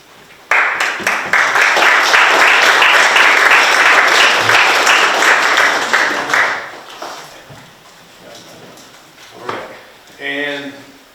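Applause fills a town council meeting, a loud, dense wash of clapping from the audience that holds steady for about six seconds, then fades into murmuring and brief talk.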